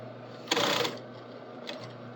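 A sewing machine topstitching an apron through six layers of fabric runs in a short loud burst of stitching, falls quiet, then gives a second brief burst. A low steady motor hum sits underneath.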